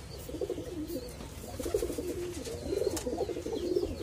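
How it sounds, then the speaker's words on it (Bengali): Several male pigeons coo steadily in low, throaty rolling phrases that overlap and swell, close by and fairly soft, with no voices. "এগুলো হচ্ছে আমার নর কবুতর, এগুলা সবগুলাই নর কবুতর"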